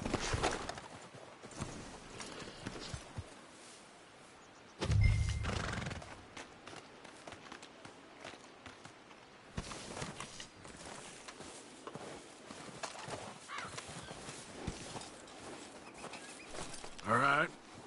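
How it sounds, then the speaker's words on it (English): Horses whinny and their hooves clip-clop in a Red Dead Redemption 2 scene, with calls and footfalls scattered across the stretch, and voices talk between them. "We should leave the horses."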